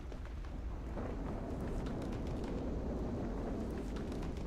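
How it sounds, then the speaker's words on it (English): A constant, loud low roar of rushing wind from a modded Minecraft tornado fills the whole clip without pause, like a storm raging close by. "and there you are, you got yourself a tornado"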